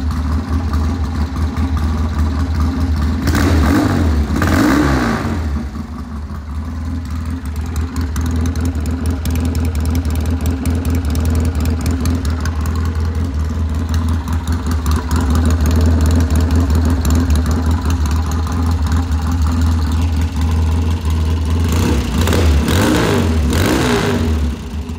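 A 1966 Triumph T120TT Bonneville motorcycle engine idles at about 1,000 RPM, a low, even rumble for the whole stretch, with a couple of brief rises in revs near the start and end.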